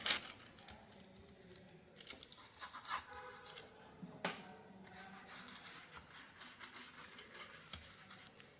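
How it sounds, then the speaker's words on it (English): Butter paper is laid into a greased 7-inch square non-stick baking tray, with close, irregular crinkling, rustling and scraping as the sheet is pressed and smoothed into place, with no talking. "Now we can place the butter paper."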